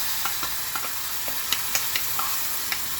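Sour yogurt whisked into a hot pan of ghee-fried food, with a steady loud sizzle and quick repeated clicks of a spoon beating against the vessel, close up and with no talking.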